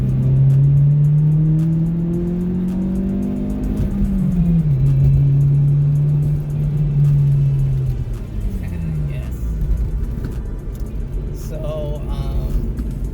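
Acura RSX with a manual shifter pulling hard down a straightaway, engine note rising steadily then dropping at a gear change before climbing again, loud and close from inside the car, with brief talk under the engine.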